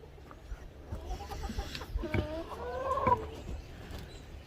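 Chickens cluck and squawk in a small farm flock, moderately close, with a turkey-like gobble rising near the middle amid faint background noise; goats are also kept nearby.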